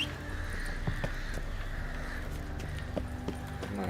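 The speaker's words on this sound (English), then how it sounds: "My horse." Horse hooves clip-clop at a walking pace in a video game, a series of distinct knocks over a steady ambient background, with crows cawing in the distance.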